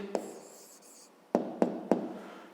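Pen strokes on paper write down an answer by hand: a short scratchy stroke, a pause with faint scribbling, then three quick taps of writing, close and clear.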